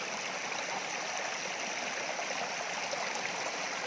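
A small waterfall at Dabarkhola in Badamba, Cuttack, spills over rocks in a steady, full rushing wash that stays even and close throughout, with no voices.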